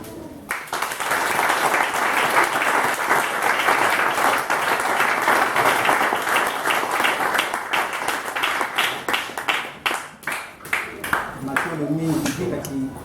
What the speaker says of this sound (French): nous allons avoir des acclamations.